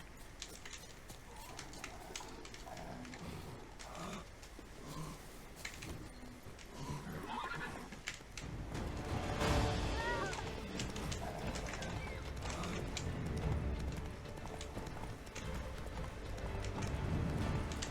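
Roach, the horse in The Witcher 3, clip-clops with steady hoofbeats throughout, a short whinny in the middle, faint bird calls around, growing busier and louder toward the end.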